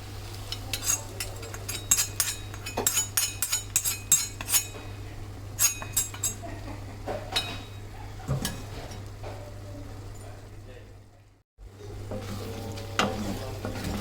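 Sautéed snake gourd for kootu, fried in wood-pressed sesame oil, tipped into a sizzling tempering and stirred, giving a steady hiss of frying under repeated clinks and scrapes of a spoon against the pan, with no voices.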